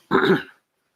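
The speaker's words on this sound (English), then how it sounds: "you can hear my dog barking in the background" A single short bark from a dog in the background, a brief gruff burst lasting about half a second, followed by silence.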